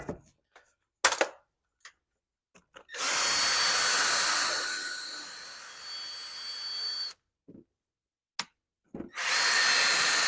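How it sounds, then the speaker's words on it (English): A cordless drill with a sanding drum sands aluminum, two long whirring runs with a gritty scraping edge, broken by short clicks and clinks of handling in between. "I've got a sanding drum on just a cordless drill"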